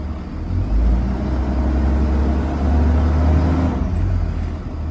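A school bus engine with the parking brake set revs up to a steady 1500 RPM, a loud low drone that swells, holds, then eases back toward idle near the end.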